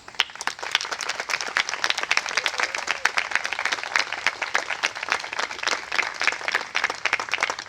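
A university centennial ceremony audience gives a big round of applause for a committee, crisp individual claps clearly audible within a steady, lively crowd clapping.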